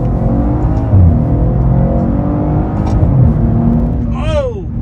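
A 2014 Maserati Ghibli Q4 accelerating in manual mode, its engine note droning steadily and climbing through the gears, with a rising whine near the end and a voice speaking over the cabin sound.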